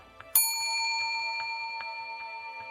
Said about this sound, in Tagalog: when your time is up, you have to hear this bell